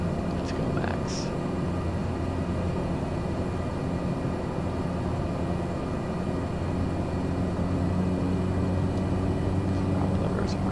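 Cessna 208B Caravan turboprop in a flight simulator, its propeller at maximum RPM: a steady, loud broadband drone with low tonal hum layered throughout, unchanging over the whole stretch.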